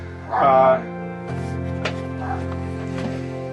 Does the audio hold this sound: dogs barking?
yes